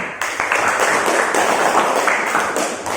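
Students clapping together in a classroom group guidance session, a loud, close burst of many hands with dense, slightly uneven claps sustained throughout.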